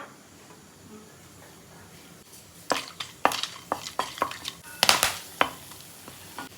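Whole cloves, cardamom pods and cinnamon crackle and sizzle in hot coconut oil in a pan, a soft hiss rising into a run of sharp, irregular pops and spatters close by.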